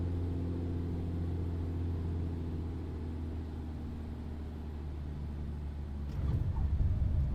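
Beechcraft Bonanza piston engine in a flight simulator, a steady droning hum that eases as the throttle comes back on landing approach, followed by a rougher rumbling burst near the end.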